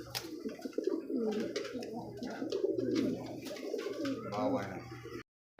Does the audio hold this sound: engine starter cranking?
no